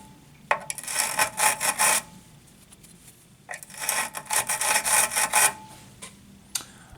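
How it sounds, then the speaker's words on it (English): Cut key pressed against the stationary brush on a Wurth key duplicating machine, two bursts of bristly scrubbing and rasping, each about one and a half seconds, separated by a short quiet pause. "The machine does feature a stationary brush on the bottom of it. You want to use that to burr your key off."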